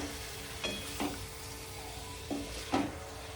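Marinated chicken, rubbed only with turmeric and salt, sizzles steadily as it is sautéed in a pan, a soft continuous fry broken by a few clinks of a utensil against the pan.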